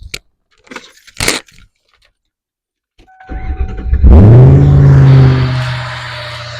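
A warmed-up Lincoln Mark VIII V8 cranks after a few clicks and jingles, catches, and flares to a loud roar before settling into a steady, strong idle close by.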